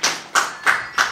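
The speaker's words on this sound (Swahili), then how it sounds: "tupigiane pia makofi ya kumshukuru Mwenyezi Mungu" Four sharp, evenly spaced claps about a third of a second apart, close and loud, rather than broad crowd applause.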